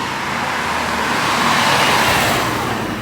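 Street traffic in Mykonos, Greece, a close, loud steady rumble of car and vehicle engines with a broad roadway wash that swells slightly as vehicles pass.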